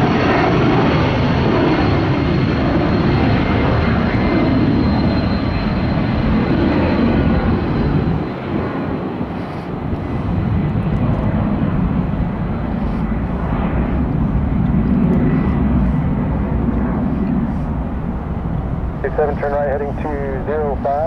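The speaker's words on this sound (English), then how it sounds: "no sooner than the 757 rocket ship departed for ATL" A Boeing 757 jet airliner departs the runway at Tampa airport bound for Atlanta, its engines making a loud, steady broadband roar that holds throughout, with people talking over it.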